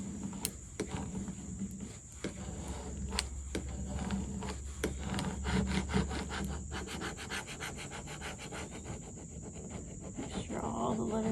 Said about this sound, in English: the more that you burnish it, the better it will stay on